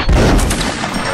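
Musket volley fire in a line-infantry video game, a loud dense burst of overlapping gunshots with no talk.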